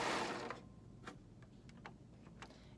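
A sewing machine stitches stretch knit T-shirt fabric in a faint, short whir, then settles into a few light mechanical ticks and clicks.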